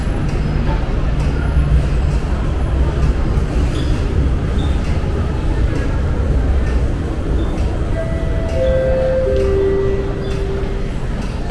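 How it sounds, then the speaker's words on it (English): A loud, steady rumble of a Hong Kong MTR Kwun Tong Line C-train, with a rising tonal whine toward the end as it slows into Kowloon Tong station. "The train to Tilking Lane is arriving."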